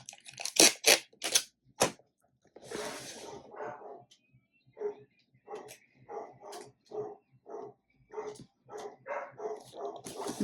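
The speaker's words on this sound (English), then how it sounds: "My dogs are barking." Several dogs bark in a quick burst of loud, close yaps at the start, followed by scattered shorter barks and yips spread through the rest of the stretch, with no talking.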